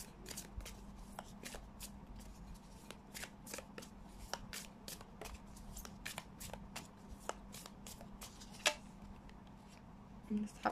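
Tarot cards get shuffled by hand in a quiet room, a fast, even run of crisp riffling flicks that continues for the whole stretch at close range, with no talking.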